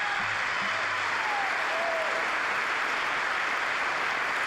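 Members of Congress give a sustained, dense wave of applause during Netanyahu's speech, steady and loud throughout, heard from a distance across a large chamber.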